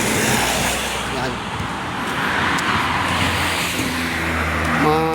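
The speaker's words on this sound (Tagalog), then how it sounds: "Daming sasakyan na dumadaan dito" Steady roar of cars passing on a busy road on a Saturday, engine and tyre noise swelling and fading nearby, with a voice talking briefly over the traffic near the end.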